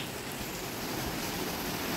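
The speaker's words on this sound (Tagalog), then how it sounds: "Lakas ng ulan." Heavy rain pouring in a constant, dense hiss, even and unbroken throughout, heard from indoors with no voices.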